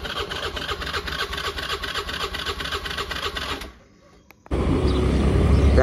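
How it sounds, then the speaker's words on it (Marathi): A motorcycle engine running steadily and loudly with a rapid mechanical chatter, cutting out into near silence for under a second before restarting and idling again, louder and rougher, on a cold morning ride. "गाडी चालू झाली फायनली"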